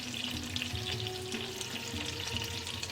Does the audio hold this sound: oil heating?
yes